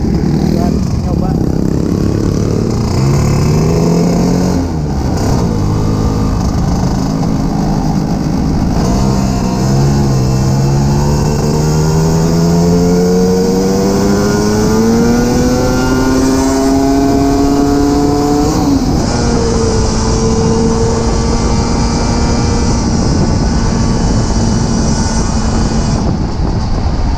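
A 1966 Vespa scooter engine at speed on an open road, a loud droning whine climbing steadily in pitch through the gears, mixed with heavy wind rush and riding-along noise.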